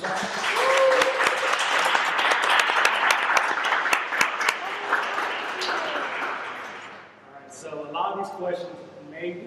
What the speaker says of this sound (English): a quick round of applause for our panelists